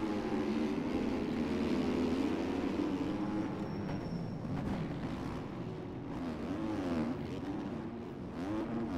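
A KTM 250 dirt bike engine in the MX Bikes racing game buzzes and revs continuously, pitch rising and falling with throttle over a supercross track, moderately quiet and steady throughout.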